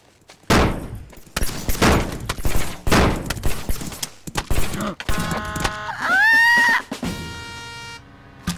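Grenade blasts and gunfire in Fortnite played in VR: several heavy, loud booms and sharp impacts in quick succession, followed by tonal game effects and whistling sweeps near the end.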